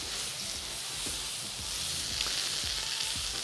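Potatoes browning on a raclette plate over a wood-fired brazier, giving a steady, soft sizzle with faint crackles, close and unbroken by talk.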